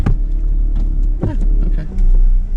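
A 1998 Ford Ranger with a manual clutch moving under its own power, the engine rumbling loud and close from inside the cab, with a person talking over it briefly.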